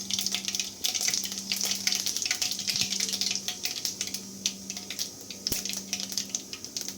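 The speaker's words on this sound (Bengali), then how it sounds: "এখানে আমি ফোড়ন হিসাবে দেব অল্প একটু কালো সর্ষে এবং সাদা জিরে" Black mustard seeds and white cumin sizzling in hot oil, a busy crackling spatter with irregular pops and a steady hiss, close and continuous.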